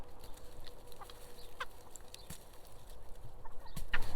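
Chickens cluck inside a homestead coop built from wooden boards, sounding close, with scattered short clucks and calls over a steady farmyard background hiss and no talking.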